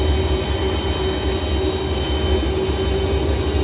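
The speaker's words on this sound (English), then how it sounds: "it's an airplane landing right there" Airplane landing in a Boeing 747 flight simulator setup, heard as a continuous broad engine roar with a steady mid-pitched whine, loud and unbroken throughout.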